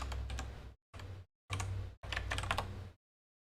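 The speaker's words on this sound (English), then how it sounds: "I do use this split keyboard. Kinesis." Typing on a Kinesis split keyboard, set to QWERTY: close, crisp bursts of rapid key clicks in four separate runs with short silent gaps between them.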